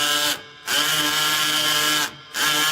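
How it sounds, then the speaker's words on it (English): A power drill whines in steady, loud bursts, running for more than a second, stopping briefly, then starting again. "So much drilling."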